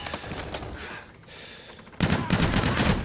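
Rapid bursts of automatic gunfire in the PS4 game Call of Duty: Infinite Warfare, a dense volley, a brief lull, then a louder renewed barrage of close shots, with no talking.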